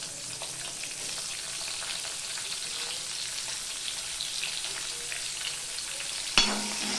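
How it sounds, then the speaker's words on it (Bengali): Sliced onion fries in a pan with a steady, even sizzle, close and continuous, broken once near the end by a sharp clink of a utensil against the pan. "পেঁয়াজটা এবার লাল লাল করে ভেজে নেব"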